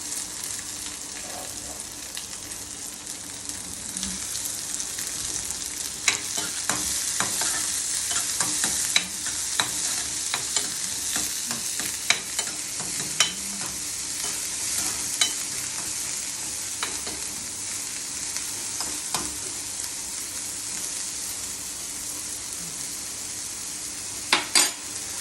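Onion frying in oil in a pan while it is stirred, a continuous close sizzle with frequent sharp scrapes and clicks of the spatula throughout, no voices.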